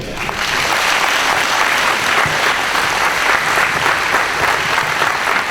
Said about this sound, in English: have a round of applause for my dad